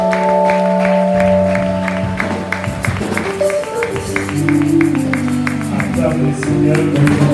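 A church congregation applauds in steady rhythmic clapping through the service, with voices and sustained music tones carrying beneath the loud, continuous claps.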